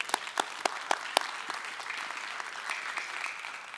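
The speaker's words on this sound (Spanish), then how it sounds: "Desen un aplauso, latinos." A church congregation claps, starting with a few loud, distinct hand claps that quickly blend into a softer, sustained round of applause.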